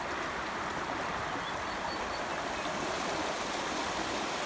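After heavy rain, creek water rushes steadily through culvert sections, a dense, constant broadband roar with no breaks.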